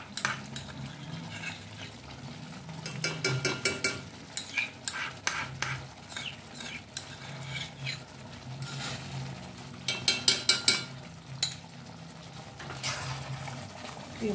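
A spoon stirs fresh cream into methi malai chicken in a pan, giving irregular metallic clinks and scrapes with soft wet sloshing, moderately close and unaccompanied by talk.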